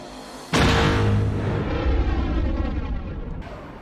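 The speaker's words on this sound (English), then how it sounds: "Is he gonna drop a seismic charge? And that's what he did." A seismic charge from The Book of Boba Fett detonates with a sudden massive boom, then a long roaring, shimmering rumble that slowly decays over several seconds.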